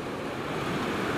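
A strong ocean wave surges up onto the beach, a dense, continuous roar of breaking water heard up close with no talking.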